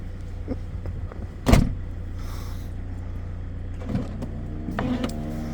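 The electric rear-window sunshade on a Mercedes W211 E220 diesel whirs smoothly as its motor runs, with a sharp click of the mechanism early on and fainter clicks later, all quiet and close inside the car.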